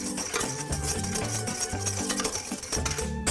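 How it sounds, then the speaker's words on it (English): A spoon stirs a gelatin mixture in a bowl to dissolve it before it can clump, making soft, steady scraping and clinking with a regular rhythm, close up and fairly quiet, with no talk. "you want to mix it right away so it doesn't clump up on you"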